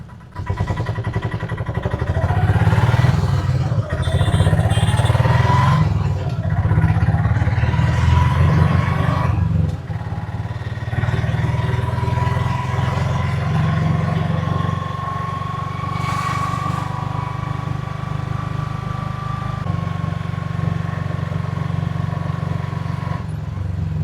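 Autorickshaw engine running steadily as it is driven, a continuous mid-pitched drone that shifts slightly in pitch with speed, close and fairly loud for the whole stretch.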